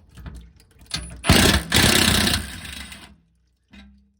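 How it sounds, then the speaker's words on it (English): An impact wrench whirs and hammers loose skid plate bolts on a Ford F150 Tremor, one sustained loud burst of roughly two seconds, close by, followed by a brief pause and a short mechanical clunk. "You don't need this impact wrench, but boy, it sure makes it a lot easier for getting this stuff out."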